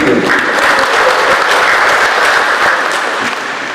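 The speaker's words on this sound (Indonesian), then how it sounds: "Aplaus dulu." Loud, close applause from an audience at the opening ceremony of an administrator leadership training, dense clapping sustained throughout and easing slightly at the end.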